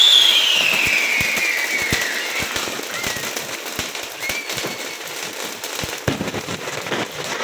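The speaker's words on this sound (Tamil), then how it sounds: "கொஞ்சம் கொஞ்சமாக பட்டாசெல்லாம் வெடித்து முடிக்க ஆரம்பித்தோம்" Diwali firecrackers crackle and pop in dense, irregular bursts at a distance, with a descending whistle trailing off early on.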